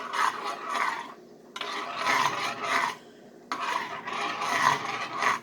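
A spoon scraping and mashing flour clumps into milk in a pot on the stove, a close rasping, rubbing sound in three long bursts separated by short pauses, no talking.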